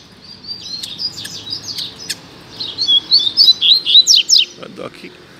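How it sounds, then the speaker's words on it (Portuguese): A double-collared seedeater sings, a rapid run of bright chirps and quick whistled notes that grow louder and busier toward the end, close by over low background hiss. "E rápido, coleiro rápido. Tocador de canto."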